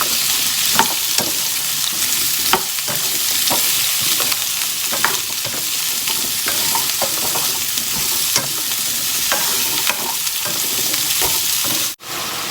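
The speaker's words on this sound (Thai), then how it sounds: "หลังจากกระเทียมเหลืองได้ทีแล้วค่ะเพื่อน ๆก็ใส่ดีเลยฟักทองค่ะ" Pumpkin frying with garlic in a pan, about 500 grams, producing a loud, constant sizzling hiss with frequent light spatula taps and scrapes throughout, briefly cutting out near the end.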